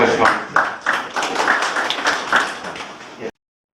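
Board members at a temporary board meeting clap together in a short burst of hand claps, rhythmic and fairly close, with talk mixed in underneath before it cuts off.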